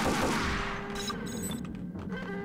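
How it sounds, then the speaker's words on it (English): Gunfire from a shootout in the Max Payne game, a quick volley of shots at the start fading into quieter scattered reports and ringing tones at moderate distance. "I should probably be shooting these guys"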